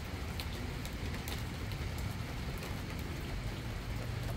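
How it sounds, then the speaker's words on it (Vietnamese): Rain falls steadily on a river fishing raft at night as a dense, even hiss of drops with faint patters on top, continuous and moderately quiet throughout. "mưa quá chừng luôn."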